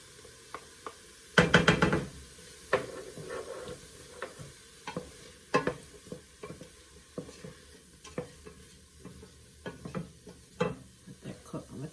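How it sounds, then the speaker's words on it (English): Onions, peppers and garlic sauté in a pan with a soft steady sizzle, broken by scattered scraping stirs and clinks of a utensil against the pan, heard up close with no talking. "But I have my onions and peppers in here. I'm going to add the garlic in here too."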